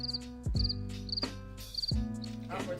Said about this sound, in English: We'll put some crickets right there.